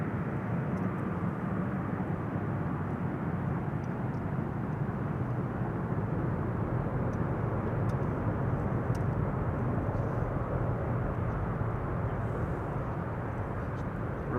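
A Boeing 777 freighter on its landing roll with thrust reversers applied gently, giving a steady low rumbling roar throughout and no talking.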